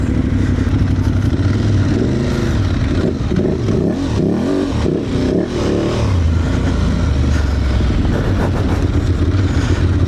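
An Aprilia Tuareg motorcycle ridden off-road over rocks, stones and mud, its engine loud and close, revving up and down continuously with rising and falling pitch and some clatter.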